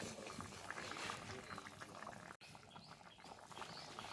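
Fish curry with fried fish simmering in a pot, a soft, steady bubbling and sizzle that continues quietly at low volume, with a brief dropout partway through.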